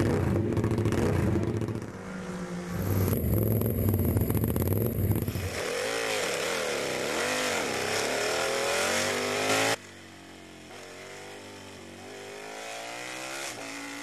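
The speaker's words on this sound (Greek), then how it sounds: "Πάμε να θαυμάσουμε αυτό το πραγματικά εντυπωσιακό μηχανάκι." A KTM 1290 Super Duke R sport motorcycle engine roars loudly up close, revving repeatedly with rising and falling pitch, then settling into a lower, rougher idle.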